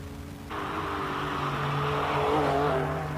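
A classic BMW 745 race car climbs a hill-climb course, its engine note rising loud and steady as it accelerates past, a continuous strong roar with harmonic tones throughout.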